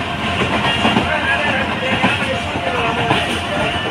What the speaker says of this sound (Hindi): इस वक्त हमारी ट्रेन का डिपार्चर होने लगा है डेरा नवाब साहब से